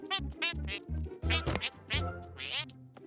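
A cartoon duck quacks repeatedly in a children's animated episode, a string of nasal, buzzy honks in an irregular rhythm, close and loud, with a voice imitating the quacking.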